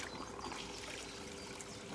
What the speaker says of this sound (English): This is your blade waterfall. This is your control for waterfall.